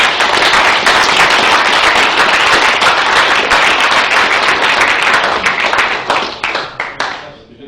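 Lecture audience applauding after a mathematics talk, dense steady clapping that fills the room for about six seconds, then thins into scattered individual claps and fades out.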